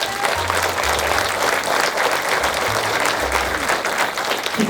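Audience at a local civic meeting in Vierzon applauds, dense sustained clapping filling the room evenly from start to finish, with a low musical drone underneath.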